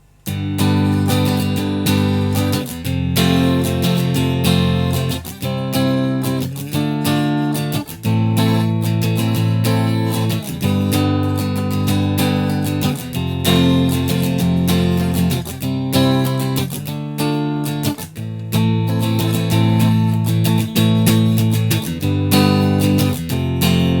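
Guitar chords from the chorus of a song strummed in a steady rhythmic progression, loud and full, with no voices over the playing.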